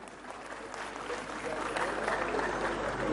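A large audience at a vegetarian awareness day event in Delhi claps loudly. The applause is dense and continuous and grows slightly louder across the clip.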